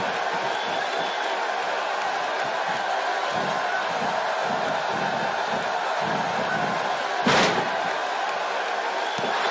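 A virtual arena crowd in WWE 2K18 keeps up a steady roaring cheer through a match. The broadband crowd noise stays constant and full, with a sharp slam impact cutting through near the end.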